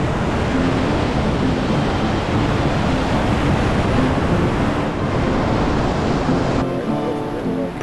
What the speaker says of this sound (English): The river's running fast but not frightening. The waves are good.